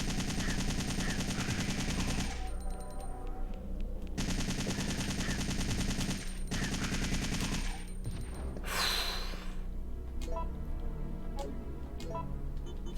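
Rapid bursts of automatic gunfire from a weapon in the 1999 video game Resident Evil 3, loud and dense in repeated stretches separated by brief pauses and quieter game ambience.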